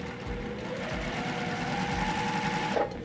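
A sewing machine runs steadily as small quilt blocks are stitched together, a close, continuous whirring hum with rhythmic mechanical ticking, alone and unbroken.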